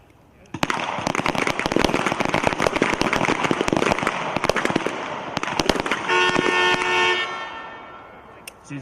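Sharp pistol shots crack in rapid, overlapping bursts from several shooters during an Army team pistol match at an outdoor range, loud and close, thinning out after about six seconds as a steady tone rises.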